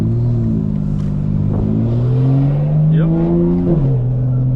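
A tuned 900 HP 2025 BMW M4 Competition xDrive accelerates hard from the cabin, its engine note climbing steadily in pitch as revs rise, then briefly dipping and rising again near the end with a loud, rich drone throughout.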